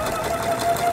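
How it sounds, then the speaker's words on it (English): Sewing machine stitching a seam along a marked line on fabric for a witch doll, a steady continuous hum with a faint high whine running through the whole short moment. "I sew the seam directly on that line."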